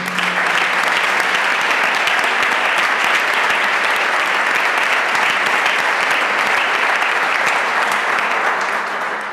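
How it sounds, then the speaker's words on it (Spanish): Loud, sustained applause from a large crowd fills the whole stretch, dense and continuous without a break, at a sports group's 40th anniversary celebration in Chiclana. "Pido un fuerte aplauso para ustedes mismos."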